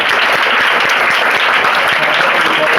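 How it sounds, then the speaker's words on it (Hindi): Steady, dense applause from a room of schoolchildren clapping together in a classroom, continuous and close throughout with faint voices mixed in. "ताली बजाओ।"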